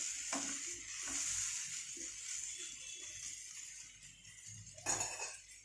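Dried prawn masala fries in a pan with a soft continuous sizzle, while a spoon stirs and clinks against the pan now and then; quiet and close.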